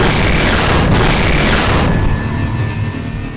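An explosion in the video game Half-Life: a loud, broad blast that roars for nearly two seconds, then drops to a fainter rumbling decay.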